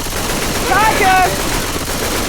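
Automatic gunfire in the zombie shooter Left 4 Dead 2, a sustained rattling burst under busy game noise, with a voice calling out briefly in the middle.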